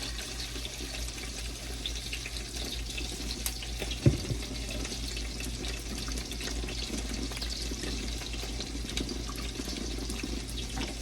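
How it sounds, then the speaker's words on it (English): Steady water runs and splashes continuously into a pot for ramen, a constant hissing flow with one brief clunk partway through. "now we need to add some water in here"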